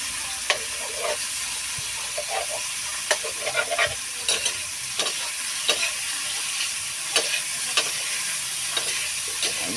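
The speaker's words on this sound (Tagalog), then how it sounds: "Luto-lutoon yung kamatis." Tomatoes frying and being stirred in a home pan, a steady close sizzle broken by repeated scraping stirs at irregular intervals, with no voices.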